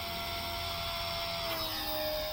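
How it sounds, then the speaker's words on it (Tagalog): An XK K170 Black Hawk UH-60L RC helicopter's brushless motor whirring, a steady high-pitched whine with constant loudness and no speech. "Ayun, ang lakas ng motor oh."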